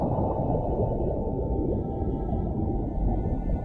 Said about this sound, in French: Une mère baleine bleue glisse avec tendresse aux côtés de son petit, l'initiant doucement à ce voyage ancestral.